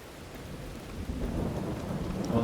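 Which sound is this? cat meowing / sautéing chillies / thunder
thunder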